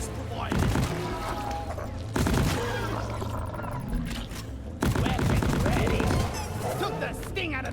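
A smart rifle fires in a video game, with loud bursts of shots in several separate volleys over a steady background of game sound.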